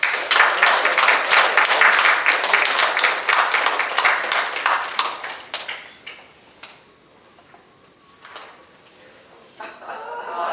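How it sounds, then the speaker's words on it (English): An audience claps for Aunt Sarah at a gathering, a dense run of sharp hand claps that thins into scattered claps and brief bursts, then picks up again near the end. "So, how about clapping your hands for Aunt Sarah?"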